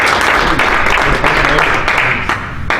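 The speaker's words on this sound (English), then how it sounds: "So give him a big round of applause." A business-networking audience claps loudly as a speaker is introduced for a talk on shares and investing, a close, dense burst of clapping lasting a few seconds that thins slightly toward the end.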